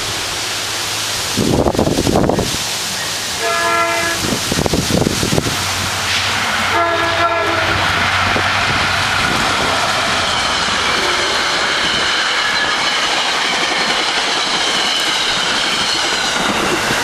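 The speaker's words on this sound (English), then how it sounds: "we caught a train gliding through town during a light rain shower" A New Jersey Transit train glides through Spring Lake Heights in a light rain shower, with loud horn blasts near the start, then a steady rumble and rail noise that keeps going to the end.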